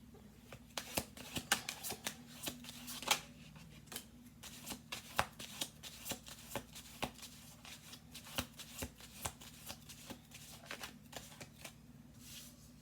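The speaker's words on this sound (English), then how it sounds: "7 cards on the table. We're going to do 2 more shuffle throughs" Tarot cards being shuffled by hand at close range: soft, irregular flurries of riffling and slapping card edges, quiet and continuous with brief pauses.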